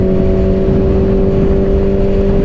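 A Suzuki Hayabusa motorcycle engine drones loudly and steadily while being ridden, a close, sustained mechanical hum with strong low tones and no talking.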